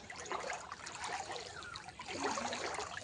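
Floodwater from a 2025 flood in Hailakandi flows and trickles, a soft, continuous watery gurgle heard at a distance with no talking over it.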